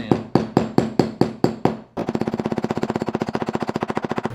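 A dead blow hammer taps a bearing into a lawn mower spindle: about eight evenly spaced metallic knocks, then a rapid, steady run of lighter taps, close and clear.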